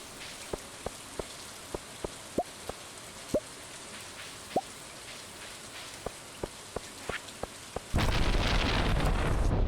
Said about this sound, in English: Holy moly, it is a storm today.